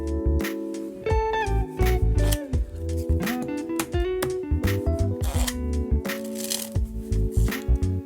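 A deck of playing cards is handled at close range and split into four piles, giving crisp flicks, slides and soft taps of cards in quick irregular bursts, alone without speech.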